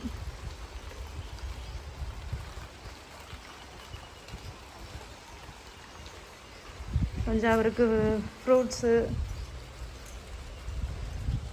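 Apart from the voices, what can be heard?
rain falling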